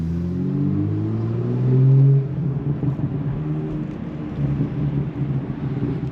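A BMW M2 LCI with 370 horsepower, manual gearbox and emptied muffler revs up in a rising surge that peaks near two seconds, then settles into a rough, burbling idle, close and loud.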